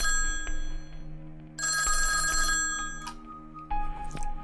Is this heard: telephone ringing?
yes